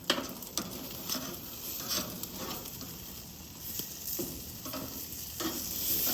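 Lemon pepper marinated porterhouse pork chops sizzle steadily on a Monument Mesa II 415BZ gas grill, a close, continuous frying hiss with occasional louder crackles and no talking.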